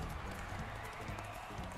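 Bowser rides a galloping horse in the Mario & Sonic at the Rio 2016 Olympic Games video game, a steady rhythmic clip-clop of hooves under game sounds and excited talk.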